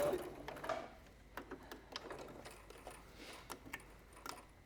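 Sewing machine stitching around the outside of fabric, a quiet run of rapid mechanical ticking and clatter with short bursts and pauses, no voices over it.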